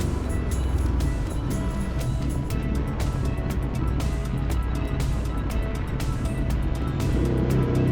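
A Ducati Hypermotard 821 motorcycle accelerates hard in a low gear, its engine roaring steadily under loud wind rush, with little change in level throughout.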